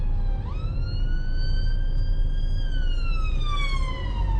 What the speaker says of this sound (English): We've got another emergency vehicle coming.